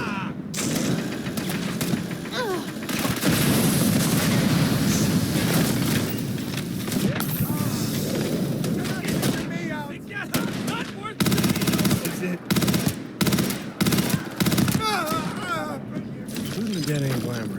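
Rapid automatic gunfire and shots from the video game Starfield crackle in dense bursts, loud and sustained, with several voices shouting over the combat.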